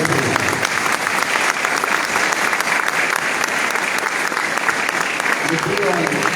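At an Easter Sunday communion service, the church congregation applauds the Lord with loud, sustained, dense clapping from many hands that stays steady and full for over six seconds.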